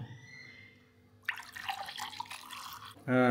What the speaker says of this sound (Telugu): ఇప్పుడు ఈ వాటర్ని ఇందులో వేసుకుందాం.